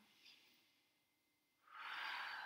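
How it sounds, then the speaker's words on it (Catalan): Deep breathing during a yoga session: a faint slow draw of breath, then a stronger, close, airy exhale through the mouth. "Respiració profunda, inflant tot el diafragma."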